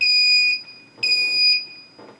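A Taranis radio transmitter sounds a warning as a pair of loud, shrill electronic beeps, each about half a second long, heard close with a faint rustle afterward.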